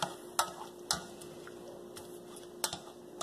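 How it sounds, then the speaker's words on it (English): Onions cooking in a pot are stirred with a spoon, giving a few sharp scrapes and knocks against the pot over a soft, steady background, close and fairly quiet. "So let's give them another quick stir."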